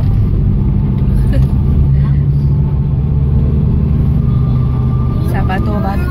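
A car rolls over a rocky, stony road near the Sky Ranch parking area in Tagaytay, giving a steady, loud low rumble of engine and tyres throughout, with people talking over it.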